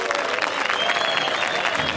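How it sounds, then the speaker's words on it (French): Crowd applauding in a film scene set in old New York, a dense, steady wash of clapping throughout. "Tout le monde l'applaudit."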